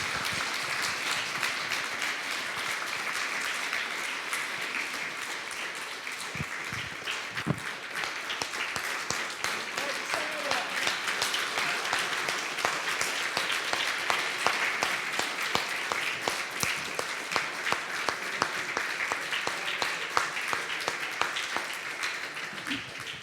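A church congregation claps steadily throughout, a sustained, even round of applause filling the hall at a constant level with no pause.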